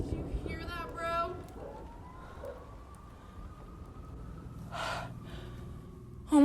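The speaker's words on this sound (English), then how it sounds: "Right when she came out, she heard sirens." A distant police siren wails in a long rising and falling tone beneath gasps, breaths and a few brief voices nearby.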